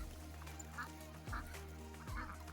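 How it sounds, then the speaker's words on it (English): Ducks crossing a farm path give three spaced bursts of quacking over a constant low rumble, moderately close with no one speaking. "except for when the ducks are crossing"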